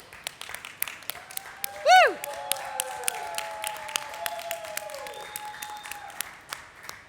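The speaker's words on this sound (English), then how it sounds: "everyone please give a round of applause to the brave children who have come to COP27." At a COP27 press conference, a small audience gives scattered, distinct handclaps, with one loud whooping cheer near the start before the clapping thins out.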